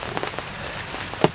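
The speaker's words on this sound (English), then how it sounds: "Can you hear the rain? We're under a big umbrella here. It's raining." Rain pattering on a large umbrella overhead, a steady soft hiss of drops with a few louder taps and one sharper splat near the end, close by with no talking.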